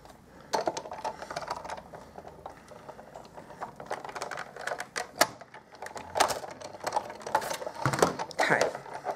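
Hand-cranked die-cutting machine feeding card stock through its rollers, giving a close run of irregular clicks, ticks and rattling mechanical crunches over about nine seconds with no talking.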